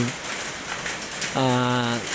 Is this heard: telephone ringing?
no